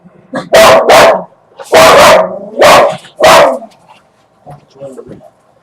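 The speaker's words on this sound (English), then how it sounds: "Our dog decided to bark at the neighbor, taking the garbage." A dog barks at a neighbor taking out the garbage: loud, close barks in short bursts, first a quick pair, then three more, followed by a few softer, fainter yips.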